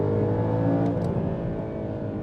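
A Porsche Cayman 981 GT4 accelerates on a race track, its engine note climbing briefly and loudly in a short burst heard from inside the car.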